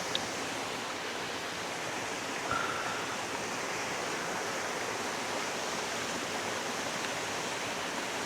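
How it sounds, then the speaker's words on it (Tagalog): Water falls inside a narrow cave tunnel in a continuous, even rush of splashing water. The roar stays steady and fills the space, with no voices over it. "Ito, may falls din dito."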